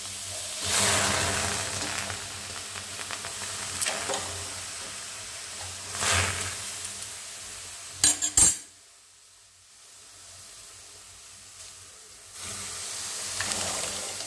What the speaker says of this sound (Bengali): এবার আমি মটরগুলো দিয়ে দিচ্ছি, আলু মটরটা দিয়ে দিচ্ছি।